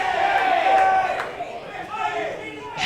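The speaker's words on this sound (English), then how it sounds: "If this goes Palmerston's way, listen to the crowd." A crowd at an NTFL Premier League Australian rules football match between Palmerston and St Marys roars around a free kick, a sustained swell of voices with a commentator talking over it.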